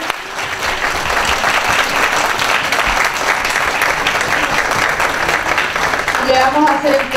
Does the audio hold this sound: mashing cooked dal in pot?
no